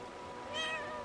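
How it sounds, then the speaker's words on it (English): A cat meows once in a game world, a single short, clear, rising-falling call heard up close with nothing else around it. "little kitty cat."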